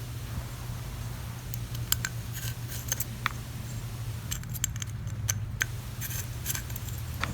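Small screws being removed from a Tippmann TMC handguard produce faint, scattered metallic clicks and ticks over a steady low hum.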